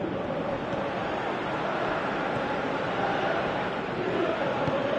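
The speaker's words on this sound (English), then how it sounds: "you can feel and hear how the crowd are reacting to all of this" Steady roar of a stadium crowd in a PS4 football video game, a continuous broadband wash of cheering and murmur with no distinct peaks, filling the background throughout.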